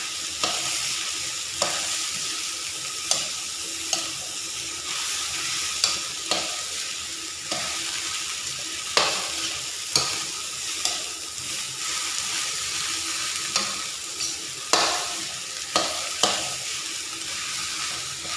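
Fried rice stir-fried in a hot pan over the flame until crisp and golden, a steady sizzle with repeated scraping strokes of the spatula at an uneven rhythm, close and alone.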